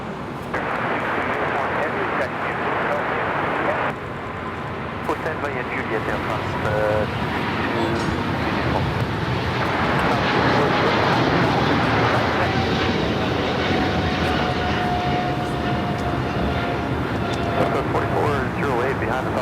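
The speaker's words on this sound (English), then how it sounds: "Let's have the Philippine 777 now rolling." A Philippine Airlines Boeing 777 rolls for takeoff at LAX, a sustained engine roar that gradually swells, with a voice talking over it for much of the time.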